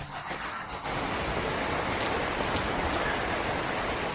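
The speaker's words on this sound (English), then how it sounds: "I'm waiting for the rain to stop because I won't stand in it." Heavy rain pouring down during a full storm, a loud dense hiss of drops on surfaces that briefly thins at the start, then surges and holds steady and close.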